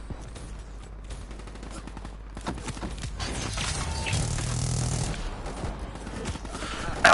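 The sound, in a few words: gunfire in a video game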